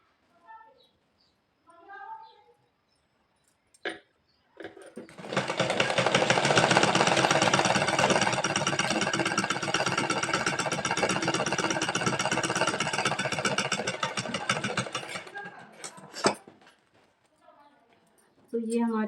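A sewing machine runs steadily for about ten seconds stitching a pant pocket, a fast loud even whirring buzz, with someone talking briefly before and after it.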